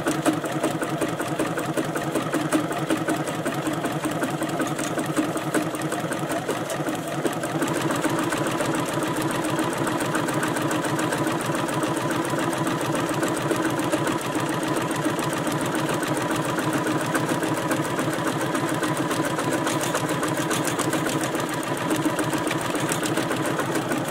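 A computerized sewing machine sewing an elongation stitch pattern, running as a fast, steady mechanical clatter close by and continuously for the whole stretch, with no talking.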